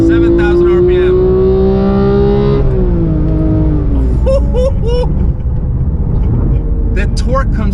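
A Ferrari F12 sports car engine revs hard toward high RPM, a loud rising howl that drops as it shifts, then more rumbling revs and blips with voices talking over it.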